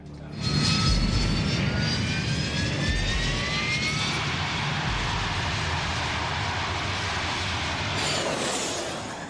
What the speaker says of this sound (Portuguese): O Prowler EZ-01 se aproxima da pista. EZ-01 podem decolar.